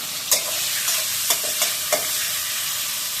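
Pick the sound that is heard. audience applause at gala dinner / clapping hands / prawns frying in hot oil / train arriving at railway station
prawns frying in hot oil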